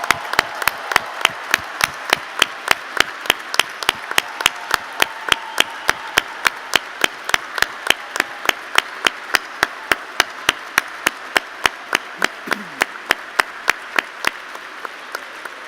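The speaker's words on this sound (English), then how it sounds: "I invite all other people in this room to give a big applause to the graduating class of" An audience applauds the MBA graduating class of 2019 at a graduation ceremony, with a steady stream of close rhythmic claps that run for the whole stretch, loud and even, and fade slightly at the end.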